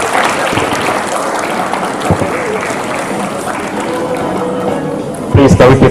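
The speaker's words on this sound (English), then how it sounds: "Big round of applause for her." Audience applause at the Ife Accounting Summit, a steady roomful of clapping with some talk mixed in, swelling louder near the end.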